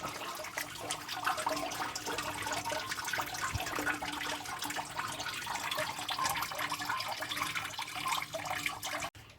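Coolant water draining steadily from the opened radiator of a Toyota Qualis, a continuous soft splashing trickle, faint and even, with a sharp knock right at the end.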